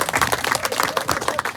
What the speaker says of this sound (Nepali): हामी ताली बजाइदिउँ।